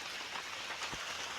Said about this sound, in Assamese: বৰষুণো আহিল